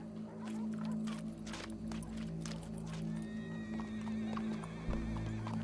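A horse neighs in Red Dead Redemption 2 alongside clip-clopping hooves, a brief whinny rising over a steady low hum of background game ambience.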